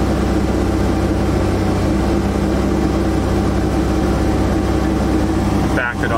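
A Jeep Grand Cherokee's OM642 diesel engine held at 2,000 RPM during a DPF regeneration, a loud, steady, unbroken drone heard up close that drops out briefly near the end.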